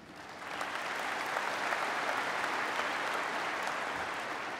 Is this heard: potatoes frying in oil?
no